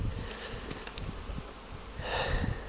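Honey bees on a February winter cleansing flight, flying out of a sun-warmed hive: a steady, close, continuous buzzing drone that swells slightly toward the end.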